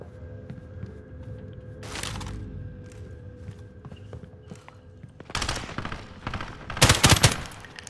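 AUG rifle gunfire in a video game, several loud, rapid automatic bursts that grow heavier toward the end, between quieter stretches of ambient game noise and faint footsteps.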